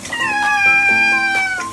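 A cat gives a loud, close, drawn-out meow that wavers in pitch while being bathed, heard alone without talk.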